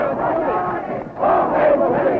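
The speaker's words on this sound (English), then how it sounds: "we're standing in front of the Dominican National Palace in front of an angry student crowd shouting, "Yankee, go home,"" An angry student crowd shouts in unison in front of the Dominican National Palace, a loud, steady roar of massed voices that dips briefly and then swells again.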